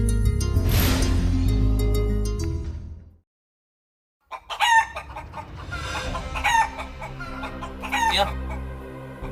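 Farmyard hens cluck and a rooster crows loudly and close by, with a brief silent gap before a fresh run of clucking and crowing calls.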